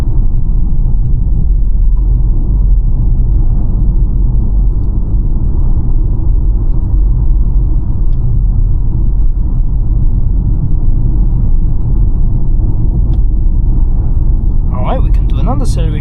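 Steady low road rumble and tyre hum inside a Kia EV5 Earth 2WD electric SUV while driving, a constant muted drone throughout with a brief faint chime near the end.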